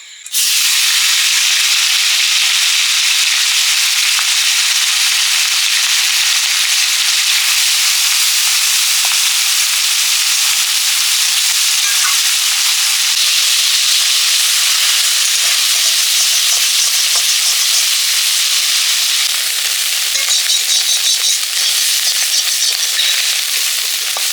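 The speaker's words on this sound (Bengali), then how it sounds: "এবারে কুটি মাছগুলো ভেজে নেবো" Small fish fry in hot oil, making a loud, constant crackling sizzle that fills the whole stretch close up, with no voices.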